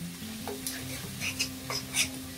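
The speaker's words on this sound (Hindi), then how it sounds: "और पानी डालने के बाद फिर इसे अच्छे से भूनेंगे।" Masala spices frying and being stirred in a pan with a little water for whole moong dal curry over high flame: a soft steady sizzle broken by several scraping stirring strokes, close and fairly quiet.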